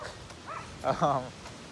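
Dog barking in a residential neighborhood, a couple of short, faint yips and whimpering barks at a distance in a quiet background.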